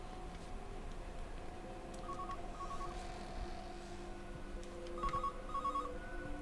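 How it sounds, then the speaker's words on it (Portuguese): Telephone ringing nearby in the game Everybody's Gone to the Rapture, repeated double bursts of a bright electronic ring over a low ambient hum, two ring pairs heard clearly. "Tem um telefone tocando aqui perto."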